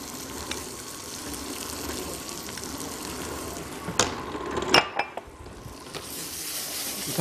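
Banana slices frying in a pan with cinnamon, a steady soft sizzle carrying through, broken by a few sharp clinks and scrapes of a utensil against the pan.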